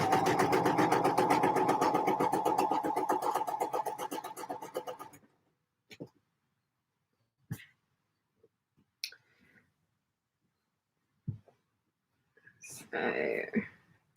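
A sewing machine hems fabric in a fast, steady close stitching rattle for about five seconds, then stops, leaving scattered soft clicks and handling noises.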